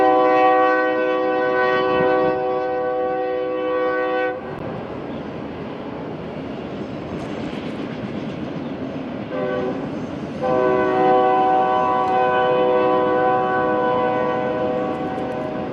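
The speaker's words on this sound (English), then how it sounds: "next time the train goes by, we'll kind of show you what that sounds like." A train passes in Arizona, sounding two long, loud horn blasts with a rumbling, rattling pass-by of the cars between them.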